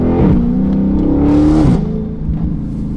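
A naturally aspirated 392 V8 engine in a Scat Pack car revs loudly up close, the pitch rising and holding before dropping back, then settling to a rumbling idle.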